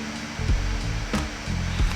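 Computer fan spinning up under heavy load while photo editing software runs, a steady loud whooshing roar with a few brief bumps in intensity, heard alone without talk.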